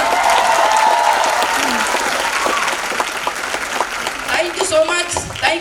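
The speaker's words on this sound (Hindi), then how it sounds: "पर जोरदार तालियां।" Loud, enthusiastic audience applause at a company event, dense clapping from a crowd that holds steady, with a voice speaking over the tail end.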